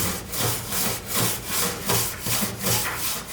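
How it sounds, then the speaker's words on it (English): A wheel brush scrubs back and forth across the grimy bare underside of a Toyota Tacoma cab, making a steady rhythmic rasping sweep about twice a second, loud and close with no voices. "It's a wheel brush, so it's not exactly meant for scrubbing stuff like this,"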